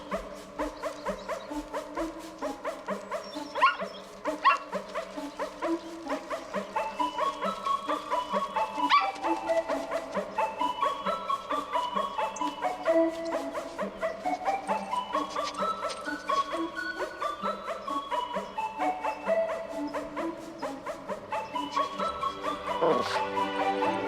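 Dog barking set to music in a clip from the 1989 film The 'Burbs, a steady run of yips and bow-wows forming a continuous melodic tune, loud and constant throughout.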